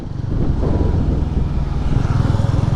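A 200cc motorcycle engine cruises in fourth gear at around thirty, a steady, close low drone with a fairly even throb and no pauses.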